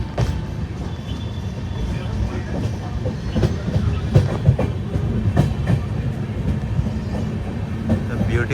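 The Karnataka Sampark Kranti Express runs on its tracks with a steady rumble and irregular clickety-clack of wheels over rail joints, heard from on board at moderate loudness.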